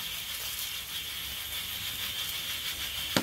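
A sausage sizzling in a hot pan just after being flipped, a steady bright hiss of frying fat that runs continuously and close, with one small pop near the end and no voices.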